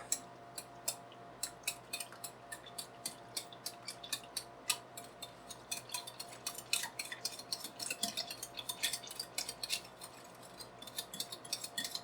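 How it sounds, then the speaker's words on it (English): Cold soup ingredients, including canned milk, whisked in a bowl, a fast run of light metallic ticks and clinks keeping an even, rapid rhythm for several seconds, close and fairly soft, with no voices. "Whisk it up."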